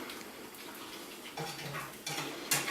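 A quiet omelette pan rattles and scrapes on a stovetop as it is shaken, with soft metallic shuffles that grow a little louder in short bursts toward the end.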